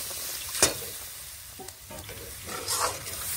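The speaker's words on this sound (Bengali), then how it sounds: "এখানে জল দিয়ে দিচ্ছি" Water hits hot oil and spiced potatoes frying for a Bengali potato curry, giving a steady broad sizzle with a sharper splashy hiss near the start and another swell later, heard alone and fairly close.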